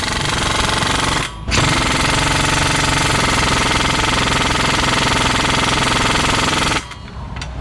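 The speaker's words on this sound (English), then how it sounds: "my baby Ingersoll air gun" Ingersoll Rand air impact gun working a tight bolt in an auto repair shop: loud, continuous rapid hammering rattle, a brief pause near the start, then a long sustained run that cuts off near the end.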